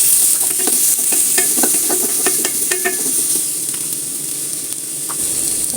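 Chopped onion fries in coconut oil for a cauliflower curry, giving a loud continuous sizzle with repeated clinking stirs of a spatula in the pan that thin out toward the end, no voices present.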